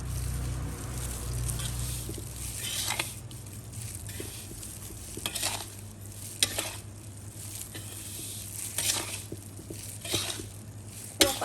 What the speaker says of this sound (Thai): พริกจินดาป่น พริกชี้ฟ้าป่น คั่วไฟอ่อนๆค่ะ